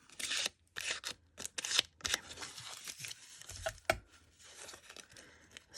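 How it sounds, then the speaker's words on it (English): Paper being torn into little strips makes short ripping and crinkling bursts, close and fairly quiet, separated by brief pauses. "I would do a little cut and then just kind of tear down and make little, just tear little strips all the way down"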